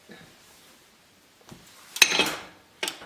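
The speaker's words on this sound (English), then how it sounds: "you put the pressure cooker cover on" A metal pressure cooker lid clatters against the pot, a loud close clank with a scraping rattle after it, following a few faint knocks, with no talking.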